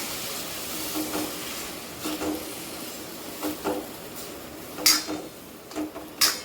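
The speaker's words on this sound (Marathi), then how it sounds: "याच्यामध्ये ही भाजी टाकून घ्यायची पूर्ण अशा पद्धतीने. आणि याला छान मिक्स करून घ्यायची." Fenugreek greens stirred in a pan for a Maharashtrian methi patal bhaji with peanuts give a steady sizzling hiss, broken by a few soft utensil scrapes and light clinks.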